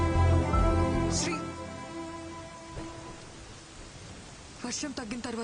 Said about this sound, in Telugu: వర్షం తగ్గిన తర్వాత వెళ్ళు.